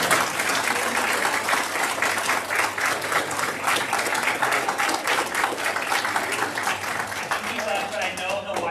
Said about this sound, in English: So I ask for a round of applause for Daddy Charles.